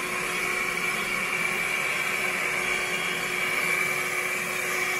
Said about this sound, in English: So we have to use our car vacuum cleaner to clean all the flower side.